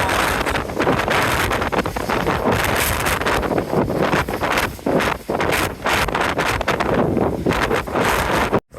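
Strong coastal wind on the Outer Hebrides at the southern end of Lewis, roaring and buffeting the microphone in continuous heavy gusts throughout, with no talk.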